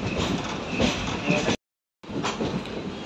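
The Chennai Egmore Express rumbles steadily across the Netravati river bridge on its run from Mangalore Central toward Coimbatore Junction, a loud continuous roar of wheels on the bridge with a brief cut to silence in the middle.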